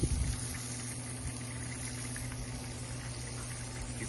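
Beef ribs set bone down on an open-fire Santa Maria grill, giving a brief louder onset and then a steady, even hiss and crackle of cooking over the flames that carries on alone throughout.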